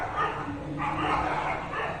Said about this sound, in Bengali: খুব পরিমাণে কুকুর ডাকছে